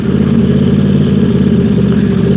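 A Yamaha YZF-R1 sport motorcycle engine runs loud and close, a steady, dense mechanical drone with slight revving fluctuation and no talk.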